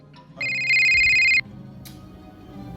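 A phone ringtone bursts out loud and electronic for about a second, a steady bright tone in a quiet room, followed by brief quieter sounds.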